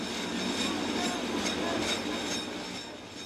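An Alishan Forest Railway train runs near the Erwanping depot, giving a steady, moderately faint rumble of wheels and carriages that continues without a break.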